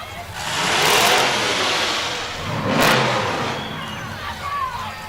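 A muscle car engine revs at a Christmas parade, rising in two loud surges and then settling to a steady rumble among an outdoor crowd.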